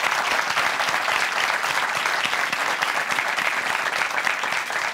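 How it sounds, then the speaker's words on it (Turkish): Steady, dense applause from a television studio audience during a couples' relationship quiz show, sustained at an even level throughout with no talking over it. "alkışlarla devam ediyor"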